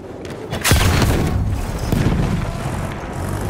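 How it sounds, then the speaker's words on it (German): A deep, booming grenade explosion in the World War I shooter Battlefield 1, a loud blast followed by rumbling battlefield noise and scattered distant fire. "Vorsicht, Jungs, ich werfe eine Granate."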